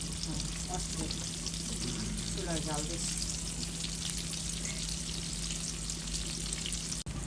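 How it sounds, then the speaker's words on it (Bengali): River fish frying in oil in a pan, a loud, steady sizzle with fine crackle running the whole way, a low hum beneath and a brief voice near the start. "এই যে বন্ধুরা আমাদের মাছ ভাজি হয়ে গেছে দেখেন কত সুন্দর করে ভাজা হয়েছে"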